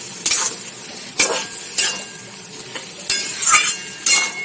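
Chicken and papaya stirred in a hot pan, with a steady sizzle and several sharp scrapes and clinks of a spoon against the metal, close and clear, with no talking.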